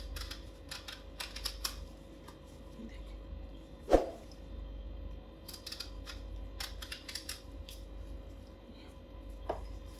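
A knife slices eggplant into thin pieces on a board, giving quick light irregular tapping cuts with one sharper chop, faint and close, over a low steady hum.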